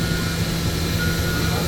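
A Mazak HCN 8800-II horizontal machining center spindle runs at 10,000 RPM, producing a loud, steady high-pitched whine and rush with no pauses through the short stretch.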